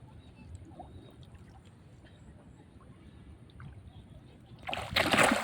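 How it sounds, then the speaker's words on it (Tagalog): Catfish crowd and thrash at the surface of a park lake at Ramkhamhaeng University in Bangkok, a sudden burst of loud, close splashing near the end after a quieter stretch of low water noise. "Tinatalsikan nyo pa ako ng tubig."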